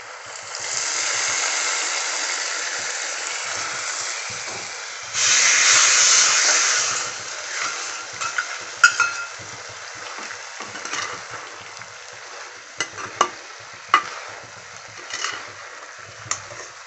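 Cashews roasted in ghee are stirred into carrot halwa in a pan, producing a steady sizzling hiss that swells briefly, followed by scattered spoon scrapes and clicks.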